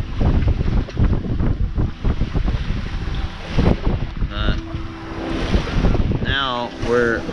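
Sailboat beating hard to windward through lumpy seas, steady wind roar and sloshing water with bursts of gusting noise, while people talk over it at times.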